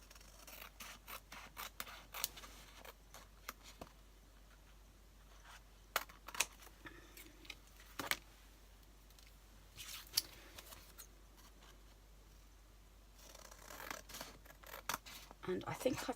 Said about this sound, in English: I'm just going to get my scissors that are over here. I'm just going to trim this up.